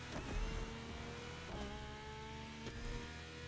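Car engine in The Crew Motorfest racing game, a steady droning hum with rising and falling pitch as the throttle is eased off and reapplied, continuous and fairly close.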